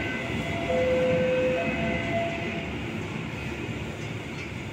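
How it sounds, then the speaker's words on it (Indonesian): A train heading from Solo Balapan toward Semarang rumbles past near a road junction, a steady, loud rolling roar with a brief tonal squeal partway through, continuous for the whole stretch. "Kereta dari arah Solo Balapan"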